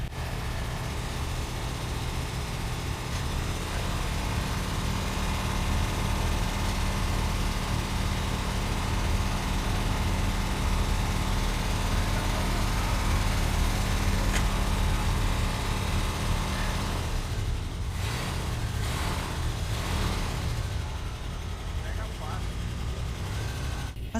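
A car engine runs steadily after being restarted on a drained battery, a continuous low rumble with no break. People talk over it throughout.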